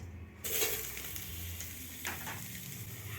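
Onions drop into a pan for a pointed gourd paste recipe, and the quiet background jumps at once into a steady close sizzle, with a brief extra crackle partway through, no one speaking.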